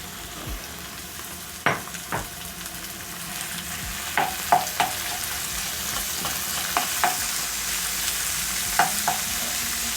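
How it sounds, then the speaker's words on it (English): Steady, low sizzle of beef frying in a pan with chopped onions, broken by a series of sharp scraping clicks as a utensil stirs and spreads the meat. "I'm going to stir and spread the meat"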